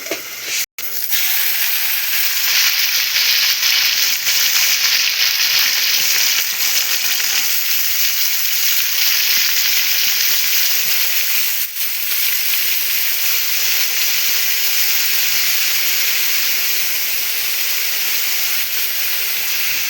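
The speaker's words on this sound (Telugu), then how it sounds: "నెక్స్ట్ ఆవాలు వేసుకుంటున్నాము నెక్స్ట్ జీలకర్ర కొంచెం మినప్పప్పు" Mustard seeds, cumin and urad dal sizzle steadily in hot tempering oil, a loud, close, continuous hiss with no talk, briefly cut off near the start.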